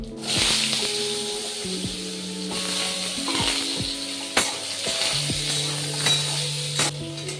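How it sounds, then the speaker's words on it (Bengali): Potatoes frying in oil with a dried chili, a steady broadband sizzle with background hum and scattered clinks and scrapes of a utensil in the pan. "আলুটা প্রায় ভাজা হয়ে গেছে।"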